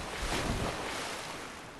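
A character wades through water in Dark Souls 3, in Irithyll of the Boreal Valley, making a broad, rushing, splashing swish that swells and then slowly fades over under two seconds, with no talking.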